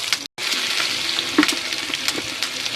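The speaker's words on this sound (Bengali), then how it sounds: "এই যে শাক ভাজার জন্য শুকনা ভাজা মরিচ দিয়ে দিচ্ছি।" Dried red chilies fry in hot oil in a pan before greens are added, giving a steady close sizzle with faint crackles and a brief silent gap near the start.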